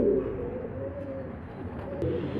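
French meat pigeons coo softly at a nest beside a squab, a low continuous murmuring coo rising and falling close by, with a steady background hum and no talk.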